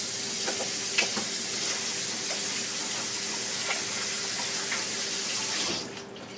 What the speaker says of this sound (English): And then I'm going to wash my hands real quick.